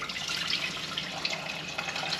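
Tap water runs and splashes into a pot in a kitchen sink, three cups being measured out for boiling rice, a steady, soft trickling stream heard alone.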